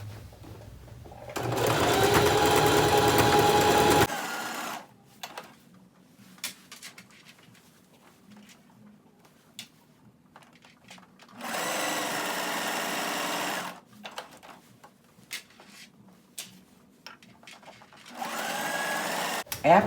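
Sewing machine stitching around the edge of a quilted jacket, whirring in three separate runs of a few seconds each, with quieter handling noises between and occasional talk.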